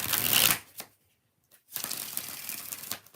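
Tarot cards being shuffled by hand in two bursts of crisp riffling with a short silent gap between, close to the microphone and with no talking.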